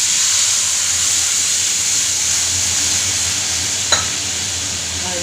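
Potatoes and turmeric hitting hot oil in a pan for an elephant apple fish curry, a loud, steady sizzling hiss throughout with a brief clatter near the end.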